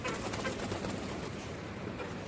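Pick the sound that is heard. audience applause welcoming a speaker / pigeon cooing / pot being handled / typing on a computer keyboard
pigeon cooing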